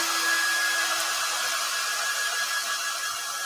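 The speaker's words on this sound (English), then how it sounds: "I'm going to hit this with a hairdryer just to see if it gets loud." A hair dryer blows steadily at close range while drying a decoupaged miniature toy teapot, producing a loud continuous whooshing hiss with a thin high whine running through it, heard alone.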